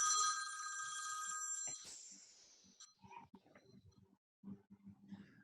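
A phone rings during an online commission meeting, a bright electronic ring tone that holds for almost two seconds and then cuts off, leaving faint room sounds and scattered low noises behind it.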